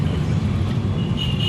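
A Maruti Ertiga car drives along, its steady low engine and road rumble loud and close throughout, with faint traffic noise around it.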